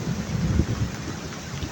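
Rain falls outdoors as a steady, dense wash of noise with a low, rumbling undertone like wind, continuous and fairly close throughout, with no voices.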